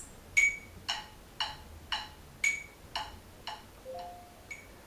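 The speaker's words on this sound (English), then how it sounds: "the tempo marking here says a quarter note equals 116, which sounds like this." A metronome at 116 beats per minute clicks in an even, sharp, moderate-tempo pulse, about nine close, crisp ticks alone in a quiet room.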